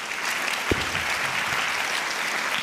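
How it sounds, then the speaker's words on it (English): An audience applauds Leanne at an evening Teacher of the Year celebration, a dense, steady round of clapping that fills the room at even loudness, with one brief low thump early on. "Let's give Leanne a round of applause."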